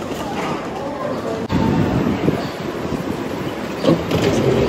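A tram in Hawaii rumbles steadily along with a sharp clunk near the start and an ongoing rattle, while passengers chat nearby.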